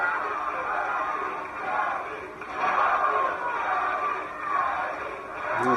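A women's wrestling crowd at the Mae Young Classic cheers and yells, fired up, the roar swelling and ebbing in repeated waves, loud and close with shouts rising out of the mass.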